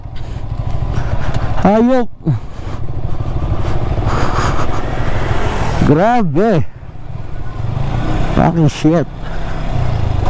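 Motorcycles ride over a rough, potholed road with constant engine drone, occasional engine revs rising and falling, and wind noise, while a rider shouts exclamations over it.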